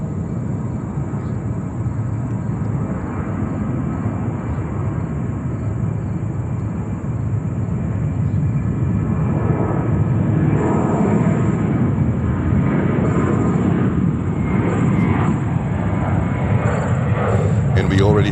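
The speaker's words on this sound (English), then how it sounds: "330-200 taxiing to runway 22 right" A Hawaiian Airlines Airbus A330-200 taxis toward runway 22 Right at New York JFK Airport, its jet engines holding a steady, loud whine and rumble that swells slightly as it passes, with talk over it.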